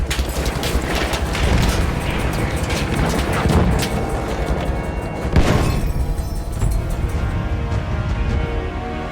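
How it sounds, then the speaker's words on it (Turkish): A bomb drops and explodes in Battlefield 1 amid constant battle noise: dense crashes, thumps and rattling, with a sharp blast around the middle and a dull boom that fades out, loud and close. "Bomba gidiyor!"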